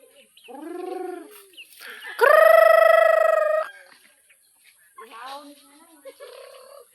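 A large pet chicken at a family home calls out: a short burst of harmonic clucks, then a loud, sustained crow-like call, followed by softer scattered calls, all fairly close.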